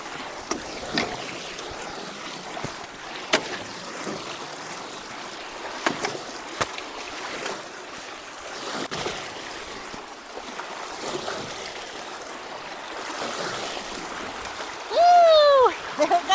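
Rainwater rushes through a freshly unclogged culvert, a continuous turbulent gush with splashes and occasional knocks, and a short burst of louder sound near the end.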